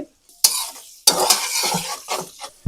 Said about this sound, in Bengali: আমি প্রথমে পেঁয়াজ কুচি দিয়ে দিচ্ছি